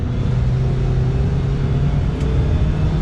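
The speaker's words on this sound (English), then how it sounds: "We'll give it a little bit of gas here." A 2022 Ford Maverick pickup with a 2-liter turbo engine accelerates gently in sport mode, its steady low engine drone and road rumble heard from inside the cab with no talking.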